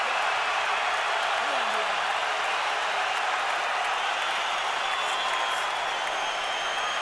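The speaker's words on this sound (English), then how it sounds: "those cheers you hear in the background are fans cheering the blood on Mayweather" Boxing fans cheer in a packed arena during the Mayweather vs Cotto fight, a steady broadband roar of crowd noise with scattered applause running throughout, with speech mixed in.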